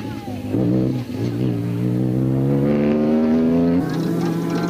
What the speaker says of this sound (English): Woolridge steered the Ford Ranger into view, and he was showing all his years of experience